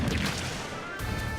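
A smash attack lands in Super Smash Bros. 4 during a Megaman versus Ike tournament grand final, a sharp whacking crash with a whoosh over a dense, steady wash of game and crowd noise.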